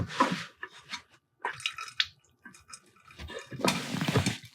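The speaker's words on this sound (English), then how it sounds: "we can go ahead and start putting this water in this pot" Water poured into a soup pot in a home kitchen for cabbage soup, heard as irregular splashing and trickling bursts with brief pauses, moderately quiet and close.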